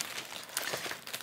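Dry, steady crinkling of plastic zip bags packed with pre-sorted square diamond painting stones, with a few sharper rustles standing out from the continuous close handling noise.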